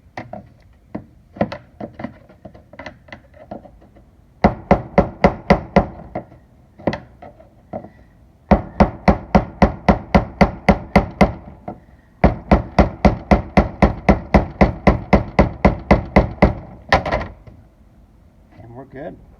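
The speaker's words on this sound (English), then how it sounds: "Time for a hammer and screwdriver." Hammer striking a screwdriver while a car fuel pump is replaced, loud close metallic taps in fast regular bursts with short pauses, a few scattered knocks at the start, no talking over it.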